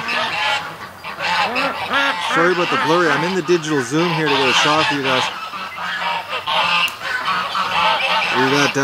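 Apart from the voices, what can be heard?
geese honking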